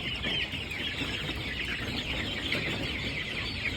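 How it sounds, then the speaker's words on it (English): Three-week-old Bresse chickens cluck and chirp together inside a farm facility, a dense, continuous flock murmur heard close by with no voices. "All these birds are currently about 3 weeks old."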